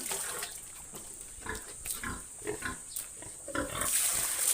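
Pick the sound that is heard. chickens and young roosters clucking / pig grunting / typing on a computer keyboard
pig grunting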